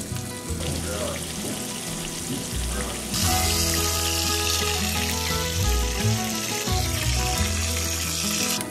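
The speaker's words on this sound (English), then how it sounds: "we're just going to dip the pork chops in here, put them straight over into the oil" Pork chops sizzling in hot oil in a pan for Southern smothered pork chops, a steady loud crackling fry that grows denser partway through, with no talk.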